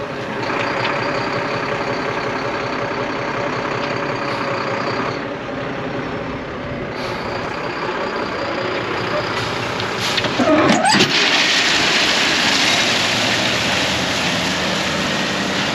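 A heavy truck engine runs and rumbles steadily while the truck spreads material on a commercial driveway under renovation. The engine note shifts and swells near the end, and voices occasionally come through.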